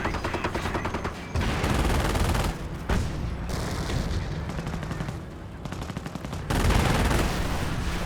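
Sustained gunfire from a Company of Heroes 1 battle, rifle and machine-gun bursts crackling continuously and loudly, with a couple of brief pauses as the rattling fire resumes.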